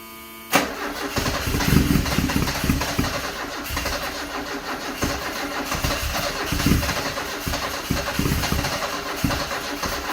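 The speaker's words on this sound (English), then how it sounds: "I'm gonna put the accelerator down to the floor while I'm cranking it" A 1974 Alfa Romeo engine cranks with the accelerator held to the floor, then catches and runs roughly. Rhythmic starter chugging and uneven, pulsing combustion follow the start, loud and close, with no talk.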